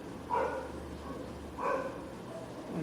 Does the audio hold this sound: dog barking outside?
yes